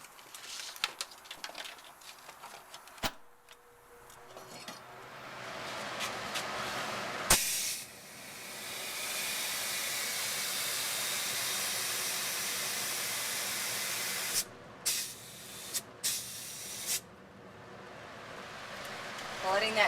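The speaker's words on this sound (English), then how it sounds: "I'm going to turn on the compressor and the fan because I need the fan." A pottery studio's spray booth fan and air compressor switch on and run as a steady loud hiss and whoosh, with a few brief cut-outs near the end and some scattered clatter and speech before it starts.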